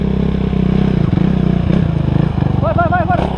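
Motorcycle engine, rear tyre overinflated, revving in short surges with clattering mechanical noise, close and loud, while voices talk over it.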